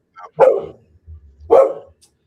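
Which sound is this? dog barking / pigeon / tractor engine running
dog barking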